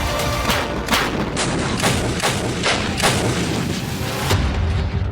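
A modern towed artillery gun booms repeatedly in quick succession, loud and close, with several blasts merging into a continuous rumbling barrage.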